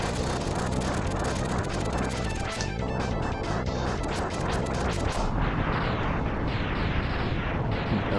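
Loud, continuous crashing explosions and rumbling smash effects from the 16-bit game Mega Man X as an enemy is destroyed and a wall breaks apart, dense and chaotic throughout, with no talking.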